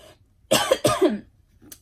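A person with dust in the throat gives two quick, close throat-clearing coughs in a row, followed by a faint short rasp after a pause, indoors and otherwise quiet.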